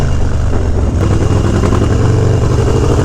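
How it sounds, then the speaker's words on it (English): Harley-Davidson Dyna FXDX motorcycle with an 88 cubic inch engine, its loud low V-twin rumble running close and steady with slight rises in revs throughout. "don't sleep on this 88 cubic inch engine"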